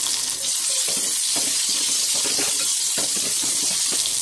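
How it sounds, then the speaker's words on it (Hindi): Chopped onion with garlic, ginger and whole coriander seeds fries over a low flame, giving a steady close sizzle with occasional stirring scrapes throughout. "प्याज के साथ मैं इसे 2 मिनट तक पकाऊंगी लो फ्लेम पे।"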